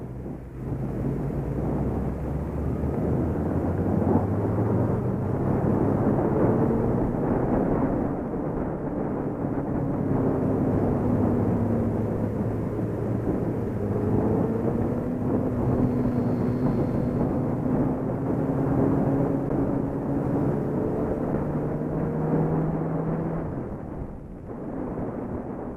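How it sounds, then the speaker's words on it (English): A Suzuki Hayabusa motorcycle accelerates on the throttle at an outdoor demo event, a loud, continuous engine roar with the pitch rising and falling through gear changes for about twenty-five seconds. "Push throttle a little bit and go."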